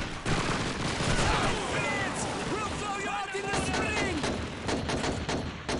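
Rapid bursts of WW2 gunfire and machine-gun fire in Call of Duty 2 rattle loudly and continuously close by, with a player talking over the shooting.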